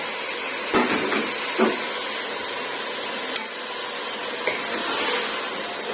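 Garlic and green masala sizzle in a pot of browning meat for baingan gosht, giving a steady, close hiss. A few soft clinks of stirring break through, and there is no talking.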